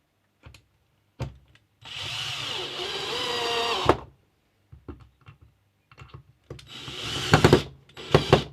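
A power drill whirs in two sustained bursts while driving screws into the bottom of a wooden ingot mold, separated by light knocks and handling clatter, close and fairly loud.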